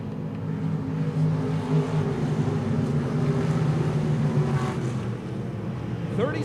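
IMCA stock cars race at RPM Speedway, their engines blending into a steady, droning roar that stays fairly constant throughout, with a slight swell near the end.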